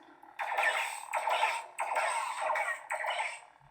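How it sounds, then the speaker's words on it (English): Proffie-powered lightsaber with a Dembek Relics Scrapflex hilt and ProffieClip sound font firing blaster-deflect effects: four quick crackling zaps in a row, each a bright buzzy burst about half a second long, close and fairly loud with brief gaps between. "So you just tap for blaster deflex."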